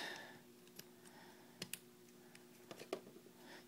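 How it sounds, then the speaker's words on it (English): Plastic joints of a Transformers Generations Thundercracker toy click as it is transformed, giving a few faint, sparse clicks and taps, close up over a quiet background hum. "You can hear the clicking sounds, and you know this is a well done toy."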